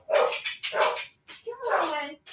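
Dog barks indoors in a home, several sharp bursts in quick succession, loud and close, with a longer whining bark at the end.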